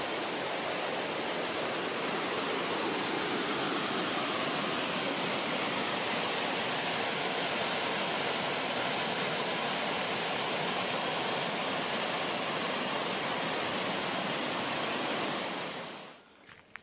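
Clear river water flowing steadily, a loud, dense, unbroken rush that holds for most of the stretch and then quickly falls away near the end, with no voices.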